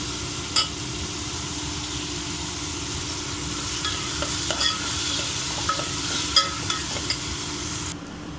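Onions frying in a home kitchen pan with a little turmeric added, a steady close sizzle with occasional scrapes and clinks of a spoon stirring, no voices.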